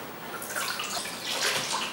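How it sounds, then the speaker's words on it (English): Water is splashed by hand onto a face to rinse off a facial mask, giving a few close, soft splashes and wet sloshing that swell twice over a brief moment, with no speech. "take my water again and go ahead and just wash it off"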